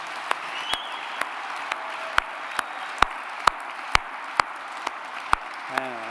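At the George Polk Awards ceremony at Long Island University, applause continues as a steady, moderate clapping texture, with sharper claps standing out at a regular rhythm and a voice entering briefly at the close.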